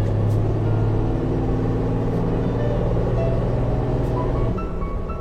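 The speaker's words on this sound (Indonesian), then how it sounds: "spuling turbonya tuh masih halus banget" A Toyota Land Cruiser 80 with the 1HD diesel engine runs loud and steady, a dense low diesel drone with faint turbo whine as it builds, dropping slightly near the end.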